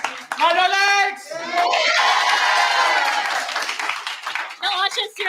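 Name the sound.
lively crowd cheering at Manor Lakes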